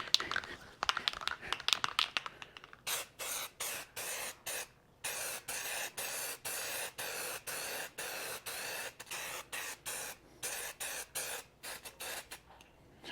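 An old aerosol spray can with a clogging tip squirts coating onto a Chevy COE truck fender in a long run of short, sharp bursts, close and fairly loud, starting with rapid uneven sputters before settling into regular pulses.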